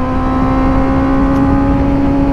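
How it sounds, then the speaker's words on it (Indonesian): A Kawasaki ZX-25R motorcycle engine runs loud and close with a steady, rough mechanical tone caused by a faulty tensioner, holding a constant pitch throughout. "mesin motor ZX 25R gua itu bermasalah ya karena suaranya sangat kasar"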